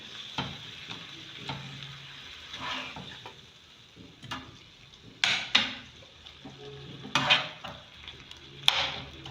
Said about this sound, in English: So I'll continue to stir it.